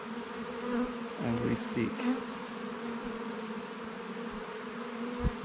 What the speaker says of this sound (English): there's a small swarm of bees coalescing on it